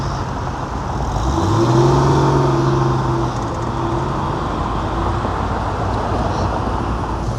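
A car pulls away from a cars-and-coffee meet in Melbourne among Porsches, its engine note climbing steadily as it accelerates, then settling into a steady traffic drone. The sound is loud and close, with no talking.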